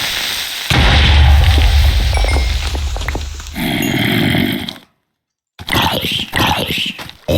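An explosion booms loudly in Minecraft 1.8.9 survival play, with rumbling blasts and crackling debris, a sudden silence, then further bursts and noisy game sounds.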